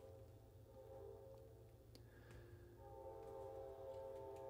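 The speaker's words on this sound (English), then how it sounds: "Here comes the train honking its way down the track" A train horn sounds on the track as sustained, layered tones that swell toward the end over a steady low rumble of rail noise.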